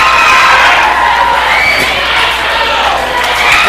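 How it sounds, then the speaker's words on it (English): Loud, dense crowd noise at a live wrestling event, with shouts and cheers swelling steadily as the audience reacts, continuous and close throughout. "The crowd's reacting to something."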